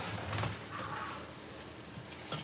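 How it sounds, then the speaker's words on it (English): Liquid boils in a kitchen pot, a steady, faint bubbling hiss with a few louder pops, heard without any talking. "It has boiled."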